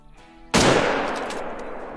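A single loud rifle shot while hunting in the game Call of the Wild: quiet ambience, then a sharp, close crack that rings out into a long, fading tail.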